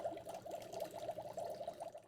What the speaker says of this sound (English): It's making bubbly noises